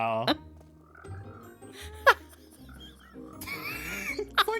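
Frogs croak in the Minecraft video game, a few short, loud, close croaks spread among softer tonal game sounds.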